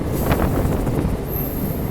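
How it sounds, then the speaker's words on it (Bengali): A train on the Jaynagar to Janakpur line rumbles steadily along the rails from close by, with a faint metallic squeal of the wheels and wind buffeting over a brief stretch. "দারুণ ট্রেন জার্নি।"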